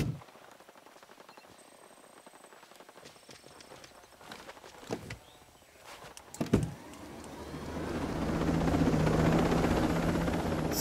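In a military shooter video game, a helicopter's rotor and engine swell from a quieter background into a loud, steady roar, after sharp mechanical clicks and thumps.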